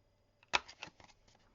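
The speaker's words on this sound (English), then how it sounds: "I'm going to take my little crocodile and I'm going to round all of my edges on this card" A crocodile corner punch rounds the edges of a cardstock card, giving one sharp, close snap followed by a few lighter clicks and rustles, quiet and alone.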